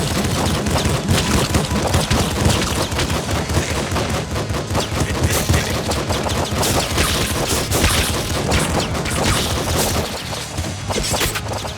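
Assault rifle fire in the top-down shooter Nuclear Throne: loud, rapid bursts of automatic gunshots that barely pause, mixed with crashes and shattering impacts, with no voices.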